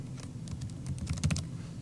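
A computer keyboard being typed on to enter a teacher's last name into a search box, with a quick run of light, irregular key clicks close by and no voices.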